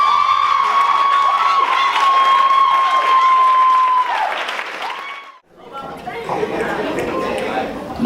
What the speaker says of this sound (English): Now y'all over there clapping.